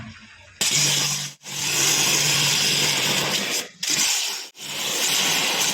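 A high-pressure washer being tested blasts a loud, continuous hissing spray close by. It cuts out briefly three times, then resumes at full force.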